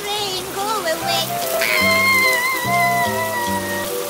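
A steady patter of rain runs through a children's nursery rhyme, sitting beneath a bright melodic tune and sung notes throughout.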